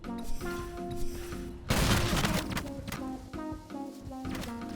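A video-game gun fitted with a recoil-boosting splitter and Arcanoid oil fires a sudden dense burst over droning tonal game sound, then the tones carry on with lighter thuds.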